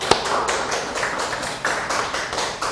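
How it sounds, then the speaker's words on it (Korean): A congregation at a Korean Wednesday church service claps in applause, sounding as a fairly loud run of sharp, irregular claps that continues without pause and has no speech over it. "하나님께 영광의 박수"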